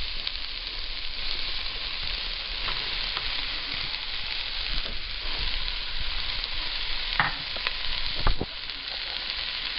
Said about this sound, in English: Mix it up. And some celery.